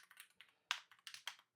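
A quick burst of typing on a computer keyboard while entering a search, with a dozen or so crisp close key clicks in uneven clusters, quiet and alone.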